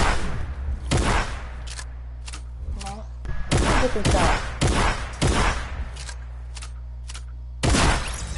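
A combat shotgun fires again and again in Fortnite, with sharp, punchy blasts coming in uneven bursts, some clustered and others spaced apart, over a steady low hum while players talk.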